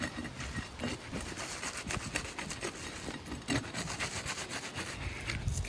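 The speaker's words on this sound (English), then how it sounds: "let's go ahead and unstick these tar strips so we can get to these nails." Asphalt roof shingle tar strips being pried and peeled apart, a continuous scraping, tearing rasp with rhythmic rubbing strokes, close and fairly quiet.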